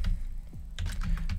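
Rapid clicks of a computer keyboard come through as a short burst of close keystrokes while an SQL query is typed.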